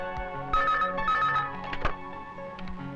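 A telephone rings in a hotel setting in short bursts of bright, trilling tones, set against quiet room sound.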